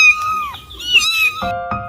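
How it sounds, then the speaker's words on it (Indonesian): A cat meows a few times in drawn-out, rising and falling calls, fairly close and clear, with short pauses between them. "mengeong seolah memanggil-manggilnya."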